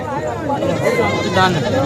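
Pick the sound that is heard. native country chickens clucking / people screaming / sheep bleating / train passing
sheep bleating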